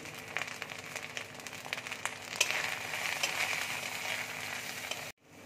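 Ginger garlic paste with coriander, chili and turmeric powders frying in a pan for an egg curry with kasturi methi, a steady close sizzle that swells slightly midway and cuts off abruptly at the end.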